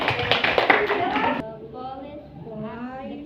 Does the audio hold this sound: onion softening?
no